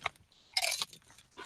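Kettle cooked barbecue chips are bitten and chewed close up, giving a few short, quiet crunches with brief pauses between them.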